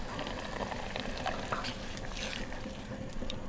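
Mushroom sauce with shallots, meat broth and bourbon simmering on a gas grill, a steady close bubbling and sizzling hiss that runs without a break and without any voices.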